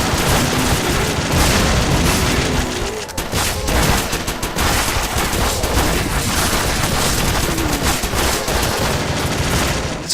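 Rapid, sustained automatic gunfire from an assault-rifle-style shotgun in the top-down shooter Crimsonland, dense overlapping blasts and booms running loudly and continuously with almost no gaps.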